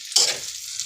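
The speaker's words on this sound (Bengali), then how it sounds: "এই যে গরু ভুঁড়িটা ভাজা ভাজা হচ্ছে" Beef tripe frying in a pan, a close, bright sizzle that swells loudly for a moment and then settles into a steady hiss.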